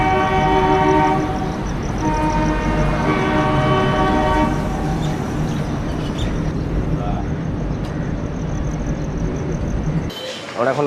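A train arriving at platform 14 of Howrah station, with loud, drawn-out horn blasts over a heavy, continuous rumble of rolling wagons and busy platform crowd noise.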